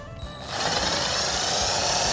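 After a brief quiet moment, a power drill starts up and whirs steadily at high speed, boring continuously through the metal trunk of a Toyota Corolla Hatchback.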